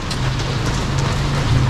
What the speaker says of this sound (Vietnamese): Đó, trời vẫn mưa này